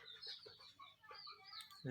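Brahma rooster clucking softly in a series of short, irregular calls, fairly close and alone, with faint farmyard background noise.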